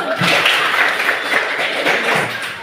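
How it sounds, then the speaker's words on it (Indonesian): Students in a classroom clapping their hands together, a loud close burst of dense, even clapping that holds steady for a couple of seconds without talk. "Tepuk tangan dulu"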